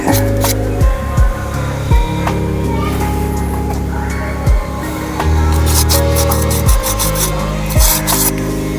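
A handmade clay pot surface is rubbed smooth with steady, close scraping strokes, broken by several sharp knocks or pauses between passes.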